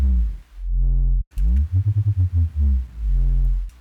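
Sub bass run through full distortion and a 200 Hz low-pass filter plays a loud, heavy low pattern of sustained notes broken by a quick rhythmic run of short pulses, alone without voices.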